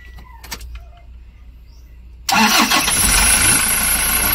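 A car's starter motor cranks the engine, which catches abruptly and roars to a loud, steady running sound after a quiet stretch.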